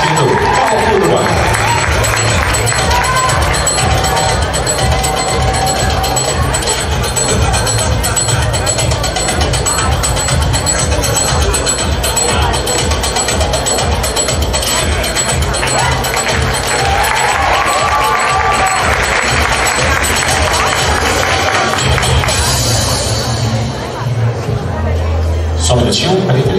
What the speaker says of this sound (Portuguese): Uma grande salva de palmas para eles.